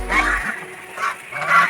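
Ducks being fed rice give a few nasal quacks in short bursts, fairly close and loud, with no talking over them.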